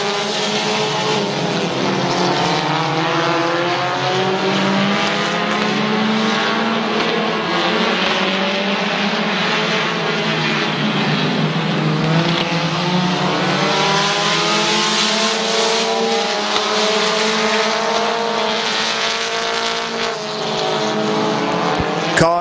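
Stock cars racing at Midvale Speedway, a loud, continuous multi-engine roar with rising and falling revs as cars battle for the lead, with a commentator's voice faintly underneath.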